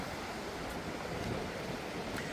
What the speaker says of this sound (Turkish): hava bugün dediğim gibi çok Bayağı bir rüzgarlı, dalgalı deniz